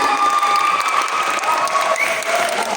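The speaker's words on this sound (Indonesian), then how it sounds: "sekali lagi beri tepuk tangan yang meriah kepada SDN 112 Perumnas" Loud, steady applause from a school audience for the students of SDN 112 Perumnas at a stage performance, dense clapping filling the whole stretch with a faint crowd murmur beneath.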